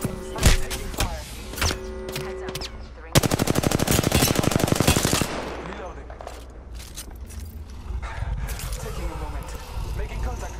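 Rapid bursts of automatic gunfire in Apex Legends, loud and close, with a long sustained volley in the middle and scattered shots and mechanical clatter around it.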